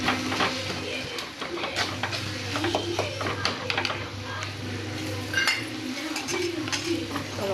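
Prawns tipped into a pan of cooked-down tomato masala for Tamil prawn masala, with light metallic clinks of a spoon against the pan and soft stirring, quiet and close under a steady background hum.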